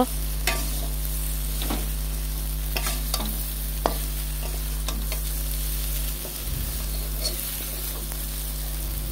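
Potatoes frying in oil with turmeric for a spicy cauliflower-potato dish, a steady close sizzle with scattered clicks and scrapes of stirring throughout, no voices.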